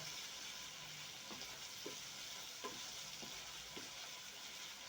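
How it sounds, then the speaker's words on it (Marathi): Turmeric and coriander sautéing in oil for ridge gourd bharit, a soft, even sizzle with several light spatula scrapes at regular intervals, quiet and close, no speech. "आता हे चांगलं परतू द्यायचं तेल सुटेपर्यंत"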